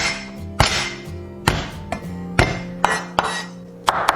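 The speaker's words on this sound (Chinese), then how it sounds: "准备一些葱姜蒜，我们全部拍碎" A cleaver smashes scallions, ginger and garlic on a cutting board in a home kitchen for stir-fried pork liver: about seven sharp, loud whacks at an uneven pace, each with a short ringing thud, and no talking.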